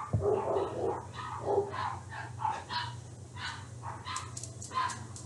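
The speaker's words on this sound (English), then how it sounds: "The dogs are at it again." Small dogs barking indoors in a home, a quick string of yaps and barks over a low steady hum.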